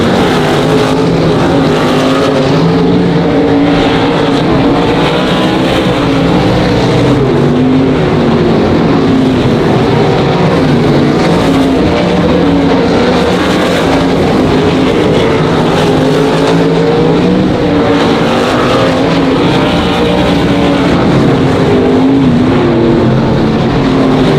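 Race cars roaring around the oval at Monarch Motor Speedway, a loud continuous blend of engines rising and falling as the pack circles the turns, with no voices heard.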